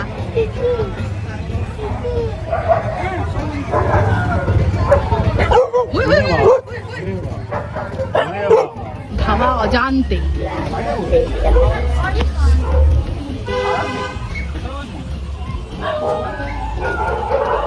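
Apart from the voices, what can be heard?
Labrador dog barking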